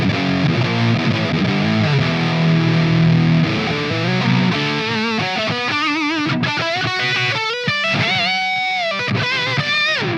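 Electric guitar through an ML Sound Lab Volcano amp plugin modeled on a Soldano SLO and Astro 20, using its stock All But New preset: heavily distorted sustained chords, then faster riffing and single-note lines, loud and continuous with no talking.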